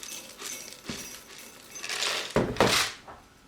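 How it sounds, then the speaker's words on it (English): Half a cup of cacao nibs being poured and measured into a 1-cup measuring cup, a dry rattling patter of small pieces with a couple of heavier bursts near the end, close and moderately loud. "have a 1 cup measuring cup and measure out a half a cup of cacao nibs."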